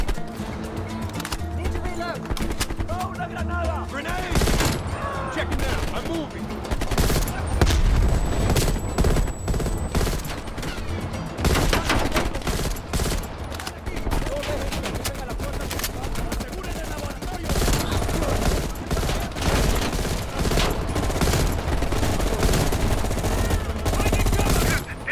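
Rapid bursts of AK rifle fire in the shooter game Black Ops Cold War, loud crackling volleys repeating through the whole stretch, with a voice talking over parts of it.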